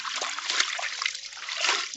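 Colored clothes are rinsed by hand in a basin, with steady close splashing, sloshing and dribbling water as the fabric is swished and lifted, and no voices.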